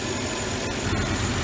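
A Mercedes M112/M113 V6 or V8 engine idles steadily with its drive belt spinning, a continuous low hum and faint whir heard up close with no talking.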